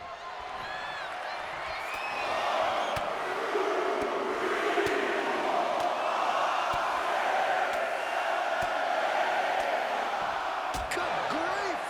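A large arena crowd in the WWE 2K25 wrestling game roars and cheers steadily and loudly throughout, with sharp impact thuds and a commentator talking over it.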